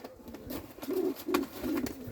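Young yellow Czech show pigeons coo while being released into a new loft, giving repeated soft throaty coos in a steady rhythm, fairly close, with light rustling between calls.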